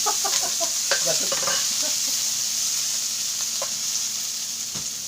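Bulinaw fish humba cooking in a pan gives a steady sizzle with scattered stirring clatter near the start and a few faint voices in the background.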